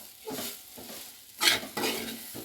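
Pitthi filling being mixed in a pan, a few soft scraping strokes of a spoon with a brief brighter rasp in the middle, close and fairly quiet, no voices.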